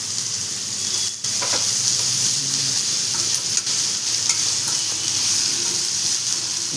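Tomato is stirred into a hot frying pan for a South Indian potato palya, giving a loud, constant sizzle with a few scraping stirs and soft knocks.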